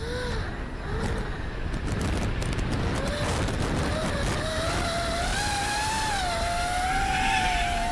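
A VTOL model aircraft flies over a beach, its motor whine rising and gliding in pitch as it transitions, steady and fairly loud over constant wind and surf noise, with a voice briefly heard.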